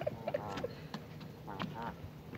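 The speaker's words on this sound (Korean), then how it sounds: "거위가 쫓아와." Geese and ducks at a lake give several short nasal honks and quacks, fairly close and scattered across a brief stretch of outdoor ambience, with faint voices in the background.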